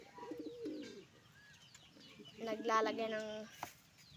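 Pigeons being fed coo softly nearby, a couple of low throaty calls a second apart, with faint background noise and no talking.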